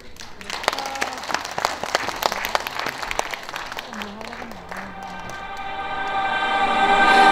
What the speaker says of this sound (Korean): 여러분들 박수